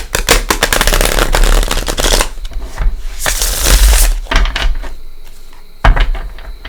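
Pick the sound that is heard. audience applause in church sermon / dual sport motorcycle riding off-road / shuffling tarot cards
shuffling tarot cards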